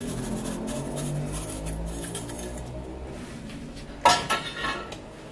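A metal utensil stirs a spice mix with fenugreek powder in a pot, giving a steady scraping rustle followed by a few sharp clinks against the pot near the end, close and fairly quiet.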